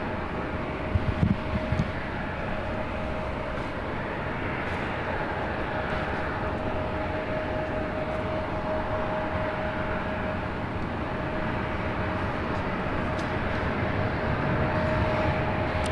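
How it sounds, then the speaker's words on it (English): A Delta Airbus A319 jet departs LAX bound for Las Vegas, a steady, broad engine roar holding at an even level throughout, with a faint tonal whine running beneath and no voices. "this flight heading to Las Vegas in this Delta A319"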